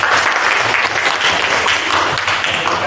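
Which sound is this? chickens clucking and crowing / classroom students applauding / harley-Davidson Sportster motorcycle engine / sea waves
classroom students applauding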